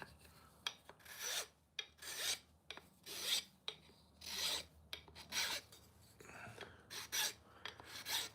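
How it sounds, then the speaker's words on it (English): A tobacco pipe being hand sanded, rhythmic rasping strokes of abrasive on wood, about a dozen close, distinct passes with brief pauses between, no voices. "I can always sand it down and get it better"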